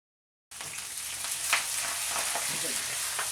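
Four hundred grams of tomato sauce hit a hot frying pan for spaghetti pomodoro, bursting into a loud, dense, steady sizzle after a brief silence.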